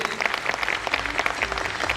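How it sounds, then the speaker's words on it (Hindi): An audience applauds the mentors at a distributor training programme, with a steady, close wash of many hands clapping that holds for the whole moment. "एक बार मेरे सारे गुरु लोगों के लिए एक बार ताली बजा दीजिए आप लोग प्लीज"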